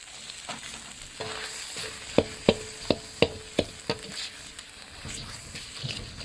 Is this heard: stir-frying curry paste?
yes